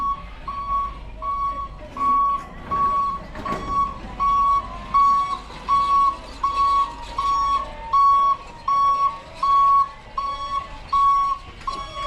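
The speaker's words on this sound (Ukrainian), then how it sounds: "мужчина їхав на цьому на погрузчику коло мене" A forklift drives through a grocery store, its reverse alarm sounding a loud, evenly spaced series of electronic beeps close by over a low background hum.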